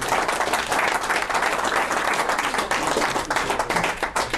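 A church congregation claps and cheers loudly and steadily for the full stretch, a dense, sustained wave of applause with no pauses.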